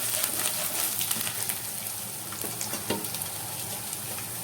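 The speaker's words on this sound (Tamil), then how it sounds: "இஞ்சியை நல்லா வதக்கிக்கிறேங்க." Ginger with chopped onion sautéing in a hot pan, a steady close sizzle and frying crackle with intermittent scrapes and clinks of a spoon stirring, continuous throughout without speech.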